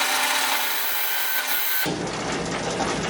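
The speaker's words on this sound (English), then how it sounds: "is the parting tool because I'm plunging straight in" A parting tool plunging straight into a spinning turkey call blank on a wood lathe gives a loud, steady, close hiss that thickens into a heavier grinding roar partway through.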